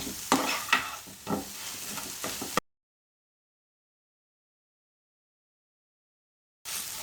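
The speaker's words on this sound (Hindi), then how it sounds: "और इसको मज़ीद फिर 1 मिनट तक भून लेते हैं।" Chicken fries in a pan while being pressed and stirred, giving a close, crackling sizzle with scraping strokes that cut off abruptly and return briefly at the end.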